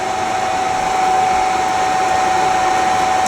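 Rotary phase converter, shown before modernisation, running steadily with a loud constant hum and a sharp whine held without change, no voices over it.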